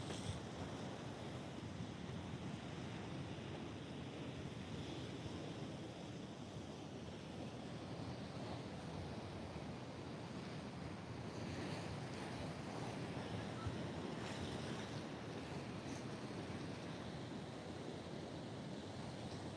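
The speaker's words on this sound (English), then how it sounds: "that water's rushing through there" Seawater rushes and drains through coastal rock pools, a continuous broad wash of surf and churning water with wind buffeting the microphone, steady and full throughout with no talking.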